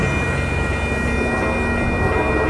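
Amtrak San Joaquin train number 714 pulls into Oakland's Jack London Square station, a steady, loud rumble of engine and rolling wheels with a sustained tonal hum, continuous and close throughout, with no voices.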